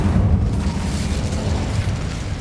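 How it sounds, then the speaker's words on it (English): The Incendio fire spell in Hogwarts Legacy produces a loud, sustained roaring whoosh of flame with a heavy low rumble that stays strong throughout. "Incendio!"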